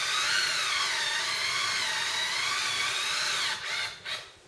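A power driver sends a screw into plastic while a remote launcher kit is assembled. A close, steady high whine runs for about three and a half seconds, then breaks into a few short bursts, with no talk.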